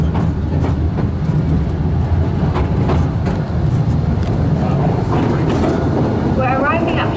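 A Royal Mail Mail Rail underground train at Mount Pleasant in London rides through a narrow tunnel with a loud, continuous rumble, clattering wheels and mechanical rattles, ending in a brief squeal.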